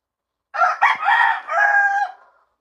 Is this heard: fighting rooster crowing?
yes